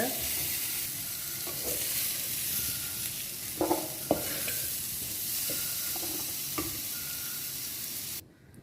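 Bitter gourd sizzles steadily in a hot pan, with a few sharp clinks of a spoon stirring against the metal.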